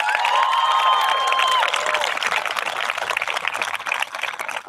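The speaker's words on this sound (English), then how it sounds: "Can we get a big round of applause for our teachers and staff members?" Graduation-ceremony audience applauds teachers and staff, steady loud crowd clapping throughout with a few cheers and whistles rising over it early on.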